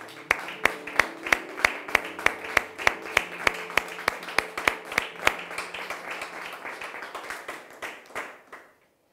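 A church congregation clapping to acclaim the Lord, many hands beating a steady, even rhythm that holds, then thins and fades out at the end.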